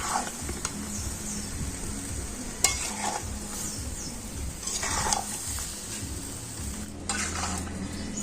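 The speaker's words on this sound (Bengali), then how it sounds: "এখন আমি গুড়ের সাথে আমটা কিন্তু খুব ভালো করে ফুটিয়ে নেব" Raw mango pieces cooking down with sugarcane jaggery in a pot for a sweet-sour pickle, giving a steady low bubbling sizzle broken by occasional stirring scrapes and a few sharp metal clinks, with no talking.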